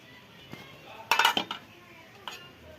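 A metal lid comes off a cooking pot of simmering banana flower in a home kitchen, a sharp clatter and clink of metal over about half a second, followed by a lighter tap a moment later against quiet background.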